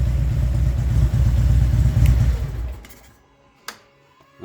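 A 2014 Harley-Davidson Twin Cam V-twin idles with a loud, steady low rumble for a couple of seconds, then cuts off, leaving near silence broken by a single sharp click.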